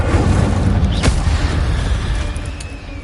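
Incendio fire spell cast in Hogwarts Legacy, a loud deep whooshing boom with a sharp crack near the start and a rumbling roar that slowly fades.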